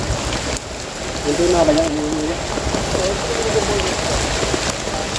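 Heavy rain pours steadily onto foliage and surfaces in a durian orchard during strong wind, a dense hiss throughout, while a person talks briefly over it.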